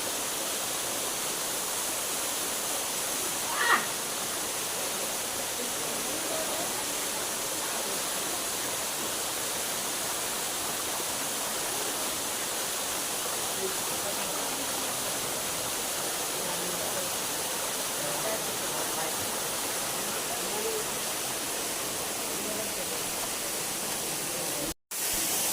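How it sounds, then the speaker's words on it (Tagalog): A tall waterfall at Mindoro Pines, Occidental Mindoro roars in a broad, even rush of falling water, steady and full throughout with no talk, ending in a brief dropout. "Ang taas ng falls."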